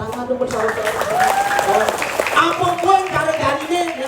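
A crowd at a Balinese drama gong performance claps in a moderate, ongoing patter while voices talk and call out over it.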